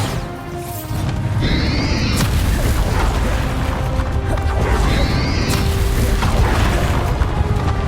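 Bombarda spell explosions in the Hogwarts Legacy video game, final repository boss battle: two loud booming blasts with crashing debris over a dense, continuous game soundscape.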